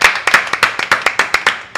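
An audience claps in a quick, even burst of about a dozen sharp claps, close and loud, with no talking.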